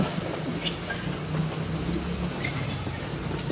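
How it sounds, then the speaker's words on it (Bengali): Heavy rain pours down in a steady, dense wash of noise with scattered sharper drips, continuous throughout and with no voices. "রিকশাই তো পাওয়া যাচ্ছে না, যে পরিমাণ বৃষ্টি।"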